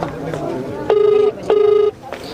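A phone rings out on an unanswered call to an unknown number: two steady electronic ring tones, each about half a second, with a short gap between them, clear and close over faint background talk.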